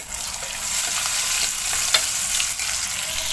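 Tadka of hot oil sizzling in a pan as Kashmiri red chili is added for red masoor dal, a loud, steady crackling fry with light stirring scrapes and no talking.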